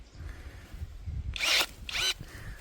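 An EGO cordless pole saw cuts through a tree branch, giving two short, harsh buzzing bursts in quick succession over quiet outdoor background noise.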